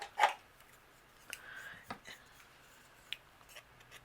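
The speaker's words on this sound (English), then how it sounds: "I'm going to use my scissors." A few quick snips and a soft scraping sound of paper being cut with scissors, close by and fairly quiet, with light handling noises between cuts.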